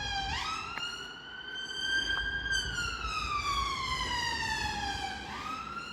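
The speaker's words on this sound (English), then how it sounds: "It's an ambulance followed by a police car." A wailing ambulance siren, followed by a police car, rises and falls steadily, fairly close, its pitch sweeping up and down over a low rumble of traffic.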